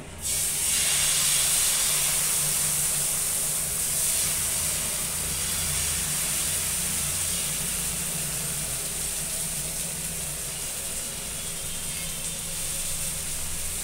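Wheat dosa batter hits a hot tawa with a loud burst of hiss that settles into a steady, even sizzle lasting throughout.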